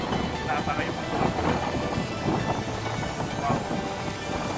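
Strong coastal wind at Dingalan, Aurora buffets the microphone in a steady broadband roar, with gusty swells throughout and a voice speaking under it.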